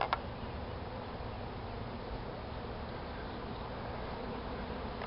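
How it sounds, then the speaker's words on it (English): Scout bees from a swarm buzzing around a tree, a steady, dense hum of many insects that stays even throughout, faint and fairly close. "See if we got scout bees over here."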